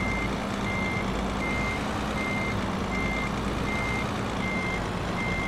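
Truck reversing beeps in the Euro Truck Simulator 2 video game: an evenly spaced series of about eight loud electronic beeps over a constant engine drone, with no talking.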